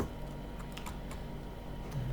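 Quiet, rapid keystrokes on a computer keyboard as an ID number is typed, a short run of light taps over steady background hiss with no talking.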